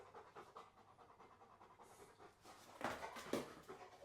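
Dog panting steadily at close range, a quick rhythmic breathing that grows louder and rougher toward the end, with no voices over it.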